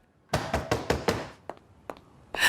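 Knocking on a door in a drama scene: five hard, rapid bangs followed by a few lighter, scattered raps, loud and close with no one speaking.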